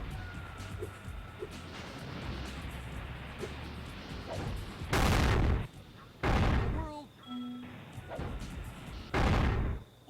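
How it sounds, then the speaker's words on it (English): Loud rocket blasts in a video game come as three separate roaring bursts, each lasting about half a second to a second with an abrupt start and stop, over a busy game soundscape and quieter clicks between them. "These rockets are very loud."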